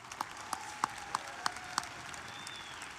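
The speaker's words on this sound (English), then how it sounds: "let's thank all those teachers, counselors, administrative assistants, and all other staff with a round of applause." Graduation audience at a high school ceremony clapping for school staff, a moderate applause of scattered, distinct hand claps rising over a steady crowd wash, fairly distant and even throughout.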